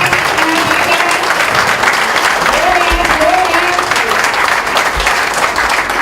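Guests at a hotel lunch gathering keep up a loud, continuous round of applause, with thick overlapping claps and faint voices mixed into the crowd noise.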